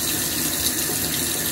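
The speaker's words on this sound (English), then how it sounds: "They wet the sponges and they sponge it off." Steady running water from a tap, loud and close, flowing continuously while facial sponges are wetted during an at-home facial.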